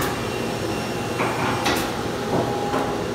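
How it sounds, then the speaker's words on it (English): A homemade saw rough-cuts wooden barrel lifts to length in a woodenware shop, giving a steady mechanical whirr with a few brief knocks and scrapes, close and fairly loud. "This is a saw that we have,"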